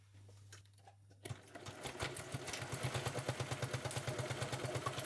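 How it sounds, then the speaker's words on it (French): A sewing machine runs a straight stitch through corduroy for a child's backpack. A low hum is heard first, then the needle starts a fast, even, rhythmic clatter that stays close and steady. "je vais coudre au point droit ici"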